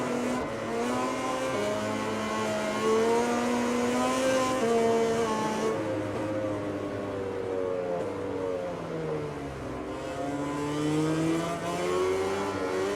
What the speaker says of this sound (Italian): Sento il suo motore, sento il rombo di quarta.